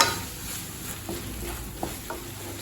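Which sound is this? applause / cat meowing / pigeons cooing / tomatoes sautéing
tomatoes sautéing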